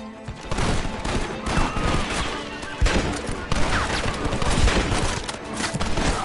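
Dense gunfight from Red Dead Redemption, a nearly constant fusillade of loud, overlapping shots and booms rolling through the whole stretch with no break.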